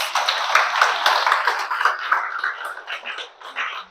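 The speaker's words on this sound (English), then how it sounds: "So for every woman here, I want you to give yourself a round of applause." An audience of women at an anniversary gathering breaks into a round of applause, bright overlapping claps that swell early and then gradually thin and fade toward the end.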